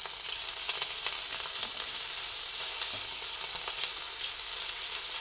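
Garlic and ginger fry in hot oil in a wok with a steady, close sizzle. The crackle is dense and even throughout and no one speaks over it.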